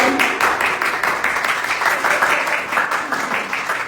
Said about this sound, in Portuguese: Aplauda Jesus mais uma vez por essa palavra.